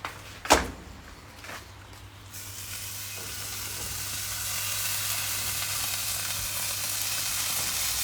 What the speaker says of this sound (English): I'm going to give it a quick fry